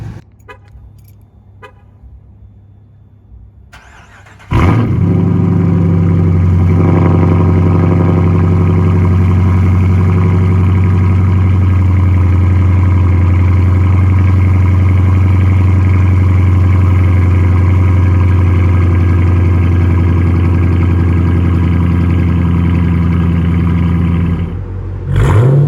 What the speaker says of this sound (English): I will include a clip right here of a kind of a cold start and some revs